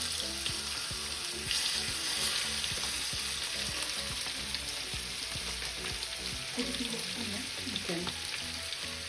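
Steak sizzles steadily in a pan, a dense close frying hiss with crackling pops throughout and a few brief clinks of a utensil near the end.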